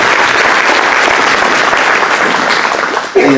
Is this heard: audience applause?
yes